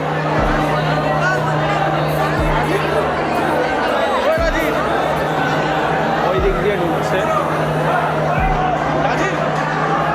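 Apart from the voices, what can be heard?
large crowd of devotees at Tarakeswar temple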